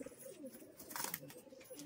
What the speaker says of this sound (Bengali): আবার ছাড়ো দেখি পায়রাগুলো।